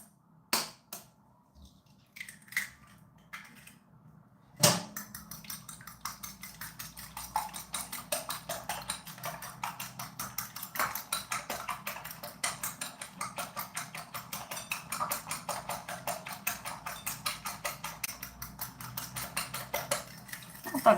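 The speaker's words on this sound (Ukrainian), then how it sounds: "Збиваємо яйце." Egg being whisked in a bowl for chocolate muffins, a few scattered taps at first, then a fast, steady metallic clatter of whisk against bowl, close and continuous.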